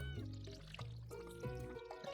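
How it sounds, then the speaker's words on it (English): A cat meows in the Stardew Valley farming game, a few short, soft cries over gentle, sustained in-game music. "Our kitty calls."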